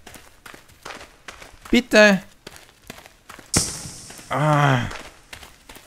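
Footsteps in the horror video game Toward the Light tap faintly and steadily in the background while someone speaks briefly and lets out an exclamation, with a harsh burst of noise in the middle.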